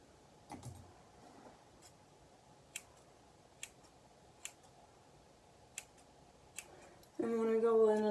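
Scissors trim hair ends in quiet, crisp snips spaced roughly a second apart over a soft background hiss, before a voice begins at the end.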